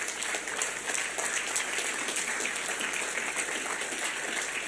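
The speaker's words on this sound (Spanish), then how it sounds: "Dale un aplauso a Él." A church congregation bursts into sustained applause after a sermon passage, a dense, even wash of many hands clapping throughout with no pauses.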